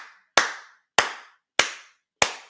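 A single pair of hands clapping, four crisp, loud claps at an even, steady pace, each ringing briefly into silence, with no voices.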